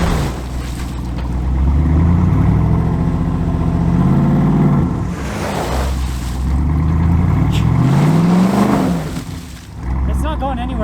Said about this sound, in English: Looks like the Wrangler's still spinning.